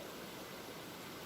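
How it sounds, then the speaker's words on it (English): A flowing river on a trekking route gives a steady, faint broadband rush of water, distant and even throughout with no voices. "I think it's the sound of the flowing river that will accompany us while we are trekking."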